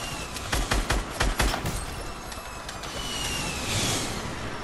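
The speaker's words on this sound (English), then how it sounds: "Who's shooting that?" Bursts of gunfire in the battle royale game Fortnite, several quick shots in the first two seconds followed by a steady ambient rumble, moderately loud with no talk.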